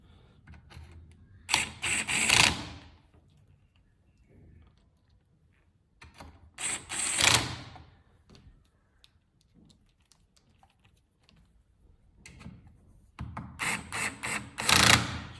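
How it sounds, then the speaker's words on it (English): An electric screwdriver driving screws into a LaserMATIC10 frame during assembly, several whirring bursts of a few seconds each with quiet gaps between them, close and clear, with no speech. "Now I'm using this electric screwdriver, but it's the same thing as the Allen key that's included in your kit."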